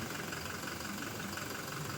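A Toyota Hilux engine idles steadily and close by, a continuous even drone with no voices.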